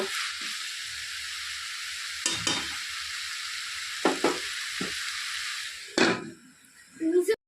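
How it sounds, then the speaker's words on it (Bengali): Spinach fries in a pan with dal bori, a steady loud sizzle running throughout, broken by clattering stirs and a metal lid being lifted off near the end, with the sizzle dropping away briefly. "ঢাকনাটা খুলে নিচ্ছি, খুলে আবার নেড়ে চেড়ে দিচ্ছি।"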